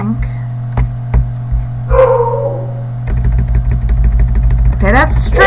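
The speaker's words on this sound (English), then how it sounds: "Sorry about my dog." A dog in a home sewing room gives several sharp barks, scattered singly and then in a quicker burst near the end, loud and close over a steady low hum.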